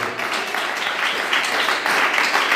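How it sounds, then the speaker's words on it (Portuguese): A church congregation applauds during a worship service, a steady, full wash of many hands clapping at a constant moderate loudness with no voices standing out. "podem aplaudir bem alegre o nome do Senhor"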